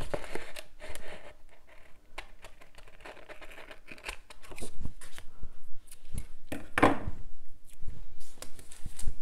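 Scissors snip through Happy Planner paper in irregular bursts of close, crisp cuts mixed with paper crinkles and handling rustles, with a louder crunching cut near the middle and no talking.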